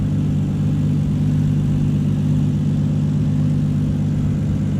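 Toyota 2JZ engine swapped into a Mazda RX8, running steadily at a loud, constant idle with a deep low rumble and no voices.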